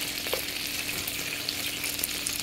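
Chicken cooks without oil on a churro maker, sizzling and crackling in its own juices with a continuous, close, busy hiss.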